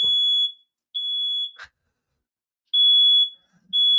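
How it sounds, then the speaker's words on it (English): A smoke alarm going off indoors, sounding loud, shrill high-pitched beeps in a repeating on-off pattern, with a brief clatter between beeps and no talking. "We're getting a fire alarm here."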